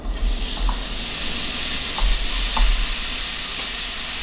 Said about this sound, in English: We're gonna cook the steak in its own fat.